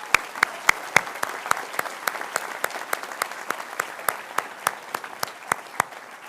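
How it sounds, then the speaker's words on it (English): Scattered audience hands clap at a graduation ceremony in Illinois Tech's Crown Hall, sharp individual claps in a loose rhythm rather than a dense roar, steady from start to finish. "Can we have a round of applause for that group?"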